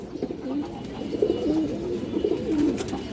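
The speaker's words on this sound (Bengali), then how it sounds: "একটা লাল চুল্লি মাদি কবুতর আছে" A red chulli female pigeon coos in repeated low, warbling phrases, three or four rising-and-falling calls at moderate volume, with no voices over them.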